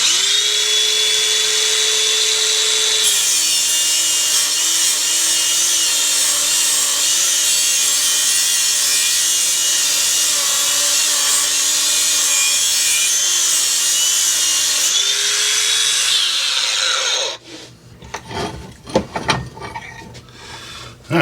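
A grinder fitted with an abrasive scrubbing disc sands down a wooden piece, giving a loud, continuous whirring drone with slight pitch wobble under load for about seventeen seconds, then spinning down and stopping, followed by scattered handling knocks.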